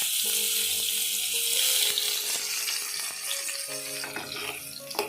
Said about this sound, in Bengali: পেঁয়াজগুলো ভালোভাবে নেড়েচেড়ে ভেজে নেব।